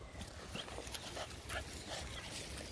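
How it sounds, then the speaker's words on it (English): Hunting dogs whimper and yip restlessly outdoors, a scatter of short faint whines and yelps at a moderate distance amid low background noise. "it's really important to hunt these dogs because that's what they're bred for"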